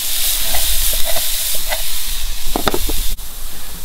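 Curry paste fries and hisses in a hot pan while a utensil stirs and scrapes through it, giving a steady close sizzle with intermittent clinks and scraping strokes.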